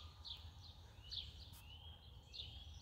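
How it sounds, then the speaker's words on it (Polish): Faint, distant bird chirps repeat every second or so over a low rumbling background, quiet and sparse early morning birdsong in April. "odgłosy ptaków"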